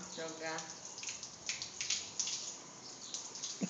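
Water sprays from a garden hose onto a playing child, giving a steady hiss with irregular splashes and patters, while a voice talks faintly at the start.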